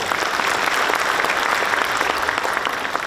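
A large seated audience at a Trade Day ceremony in Daegu and Gyeongbuk gives steady, dense applause for guests, a continuous even wash of clapping with no talk.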